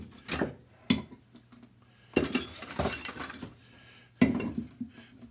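A metal wrench clinks and taps against parts on a Caterpillar Cat 60 engine, giving several sharp, separate metallic strikes with faint ringing and quiet gaps between them.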